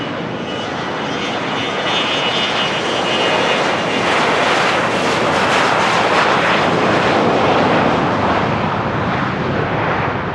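A loud private jet engine roars steadily, swelling as the aircraft powers up and takes off from Van Nuys Airport, a broad rushing noise with no talking.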